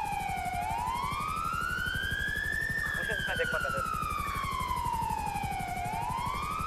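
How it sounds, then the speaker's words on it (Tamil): A police car siren in a city roleplay video game wails continuously, sweeping up and down in long slow cycles, loud and steady throughout with a voice briefly heard beneath it. "உங்கள் கார் சைரன் மட்டும் ஆஃப் பண்ண முடியுமா"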